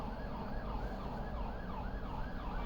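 A wailing siren rises and falls repeatedly over steady traffic rumble, fairly loud and continuous, with no talking.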